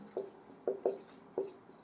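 Chalk or pen writes out a physics derivation on a board, four short faint scratchy strokes spaced unevenly in a quiet room, with no voice.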